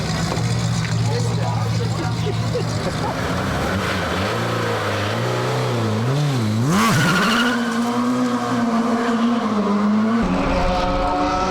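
A DTM touring car from the 2003 season slides with squealing tyres during a passenger race-taxi ride, a loud engine drone with rising and falling tyre squeal, under continuous talk.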